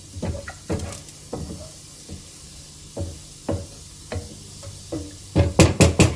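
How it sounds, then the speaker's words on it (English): Vermicelli kheer boils in a pot, giving off irregular soft plops and bubbling pops at close range, which grow into a quick cluster near the end. "Look how nicely it's boiling."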